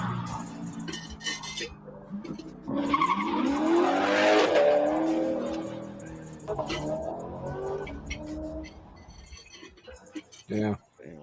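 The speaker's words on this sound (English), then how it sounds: "it's a fucking supercar" A supercar speeds past with a rising, sweeping engine roar and brief tire skid, loud in the middle and fading off, with casual male chatter over it before and after.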